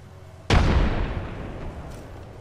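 A frag grenade detonates in Apex Legends on the World's Edge map: one sudden loud blast that rolls off into a long, fading rumble, with a faint pop near the tail.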